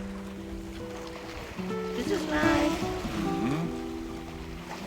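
Water rushing and wind noise around a sailboat on flat water in 12 knots of wind under gennaker and full main, with hull and rigging sounds and a brief remark spoken over it.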